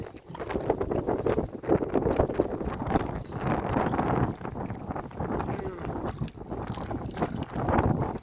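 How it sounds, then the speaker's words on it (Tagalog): Heavy water sloshes and slaps against a small boat in big waves amid gusty wind noise, a steady rough churning throughout. "Ito po, malalaki ang alon."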